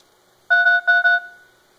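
Keypad dialing tones on a Firefox OS 3.0 pre-release phone: three short, clear two-tone beeps in quick succession, loud and close, with no talking.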